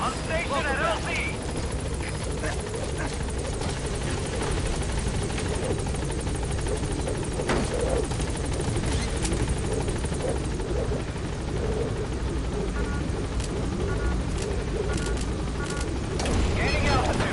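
Helicopter in the game Metal Gear Solid V: The Phantom Pain coming in to a landing zone, a steady loud rotor roar throughout with scattered impacts and radio voices talking over it.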